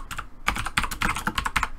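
Rapid, irregular clicking of fingers typing on a computer keyboard, close and clear, with short pauses between bursts of keystrokes and no talking.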